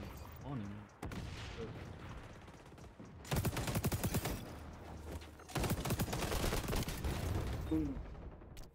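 Automatic gunfire rattles in xDefiant in two long sustained bursts of rapid shots, loud and close, with a voice talking briefly in between.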